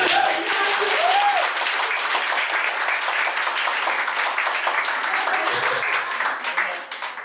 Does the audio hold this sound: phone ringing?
no